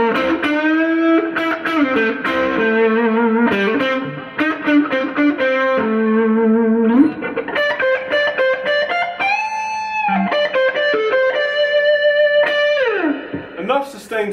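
A Gretsch electric guitar plays a distorted lead line with sustained, sliding notes and bends at a loud, even level, ringing with a little reverb.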